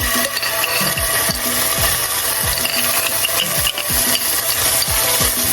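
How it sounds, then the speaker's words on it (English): Four tablespoons of sofrito hit the remaining hot oil in a skillet for Puerto Rican sancocho, giving a steady close sizzle cut by regular sweeping spoon strokes about twice a second. "now in the remaining oil, I'm gonna put 4 tablespoons of sofrito"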